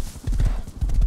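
A horse gallops in the video game Rust, its rapid thudding hoofbeats coming in quick bursts, fairly close and alone.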